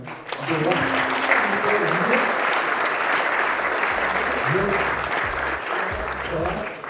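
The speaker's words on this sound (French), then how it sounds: "un tonnerre d'applaudissements pour accueillir Julien" An audience gives a long, thunderous round of applause to welcome a guest at a club event, dense clapping throughout with low voices speaking over parts of it.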